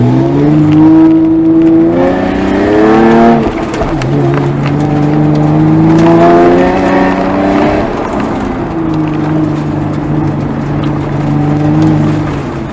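A car engine revs hard during an autocross run, loud and close, rising and falling in pitch as the driver works the throttle through turns, with steady wavering drone between surges.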